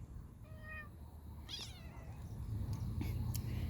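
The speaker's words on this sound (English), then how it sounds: "What are we having? A cat conference?" Outdoors in a garden, cats meow in a few short, high calls, near but fairly soft, amid low rustling and breathy background noise.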